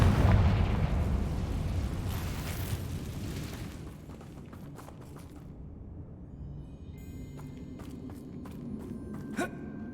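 A Confringo blasting spell explodes in the Hogwarts Legacy video game. A loud blast at the start fades into a rumbling decay, followed by scattered sharp crackles and pops.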